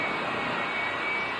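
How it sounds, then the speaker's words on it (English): A J34 Westinghouse jet engine powers a jet funny car, producing a loud, steady roaring hiss with a thin high whine running through it, unbroken and with no voices. "The car is powered by a J34 Westinghouse jet engine"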